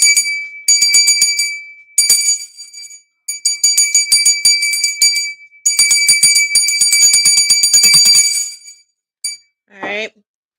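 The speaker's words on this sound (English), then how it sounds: "Make sure you guys go get you a bell to have in your house." A household bell rings in repeated bursts of bright, shimmering strikes, close and loud, with short pauses between rounds, then a short higher chirp at the very end.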